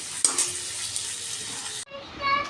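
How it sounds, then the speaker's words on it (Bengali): Water poured into a pan of frying potatoes and pointed gourd with spices: a broad sizzling hiss that cuts off sharply, then bubbling and spattering returns, close and loud. "কষিয়ে দিয়ে দেবো একটু জল"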